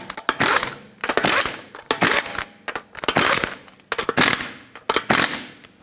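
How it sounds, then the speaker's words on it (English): A torque wrench tightens the five wheel lug nuts on a 2013-2020 Nissan Pathfinder in a cross pattern, producing six sharp bursts of clicking and rattling at a steady pace, close and loud with short pauses between them. "Put on all 5 of your lug nuts, bottom them out, and torque them to 83 foot-pounds."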